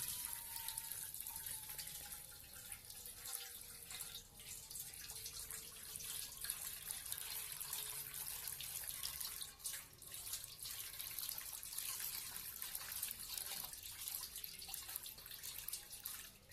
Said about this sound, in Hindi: अब इसे आहिस्ता से जो है इसका पानी निथारेंगे हम।